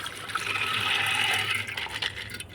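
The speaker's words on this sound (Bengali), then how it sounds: "ভালো করে ডলে ধুয়ে নিচ্ছি ধুয়ে জলটা ফেলে ভিজিয়ে রাখলাম" Soaked lentils for tadka dal rinsed in water, a steady rushing, splashing wash running for about two seconds before easing off, close and fairly loud, with no talking.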